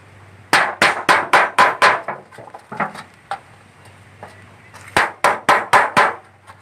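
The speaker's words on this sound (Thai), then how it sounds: "เราก็ตอกไปเลย ตอกทีๆไปเลยนะครับ" Sharp metallic hammer blows punching holes into a zinc sheet ring out in two quick runs of about six strikes each, with a few softer taps between, close and loud.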